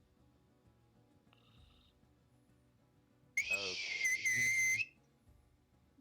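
A person imitates the creature called the Tharman with a loud, shrill, multi-toned whistle lasting about a second and a half, close to the microphone, after a brief faint whistle and some quiet talk.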